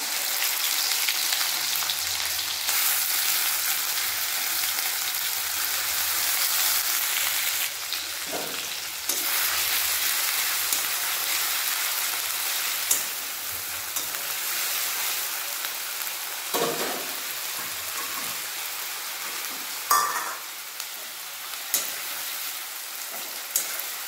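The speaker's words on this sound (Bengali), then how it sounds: "পেঁয়াজ ভালোভাবে ভেজে নেব" Onion paste frying in hot oil with bay leaf, dried and green chillies, a steady loud sizzle throughout with occasional scrapes of stirring.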